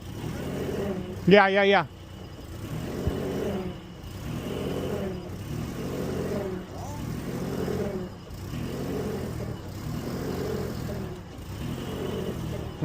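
A stuck Amazon delivery truck's engine revs in repeated surging bursts, rising and falling about every second and a half, with a brief high squeal near the start and a person speaking briefly over it.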